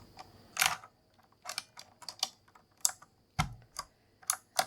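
Keycaps pressed back onto a Razer keyboard, a series of sharp plastic clicks and snaps in an irregular rhythm, close and clear in a quiet room.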